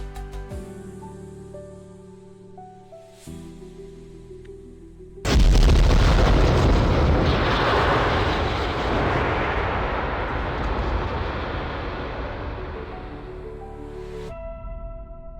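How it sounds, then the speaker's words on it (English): Rocket engine ignition in Kerbal Space Program: after a tonal game music passage, a sudden loud broadband roar bursts in and holds steady for about nine seconds before cutting off abruptly as the music returns. "Engine ignition, for some reason, is an extremely loud noise."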